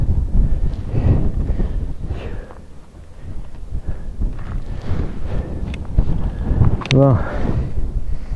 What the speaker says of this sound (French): Effectivement, il y a quand même pas mal de vent.